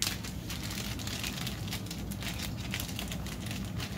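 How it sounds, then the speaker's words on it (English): A plastic bag packed around a chair-mounted shield, unboxed, rustles and crinkles steadily as it is handled up close, a soft continuous crackle with no talking. "Here, you have a plastic bag,"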